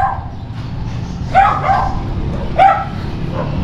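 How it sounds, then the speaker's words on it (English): Dogs bark a few times from nearby houses along a residential street, three sharp barks spaced irregularly over a low, steady background rumble. "Lots of dogs barking."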